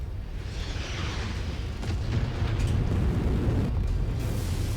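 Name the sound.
explosions in video game MechWarrior 5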